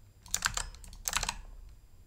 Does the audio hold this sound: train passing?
no